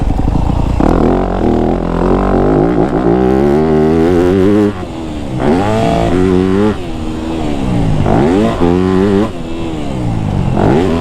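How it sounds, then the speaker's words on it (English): A 2025 Yamaha YZ250F dirt bike ridden off-road, its engine loud and close, repeatedly revving up and dropping back between gear changes across the whole stretch. "I find myself using second gear too much on this bike."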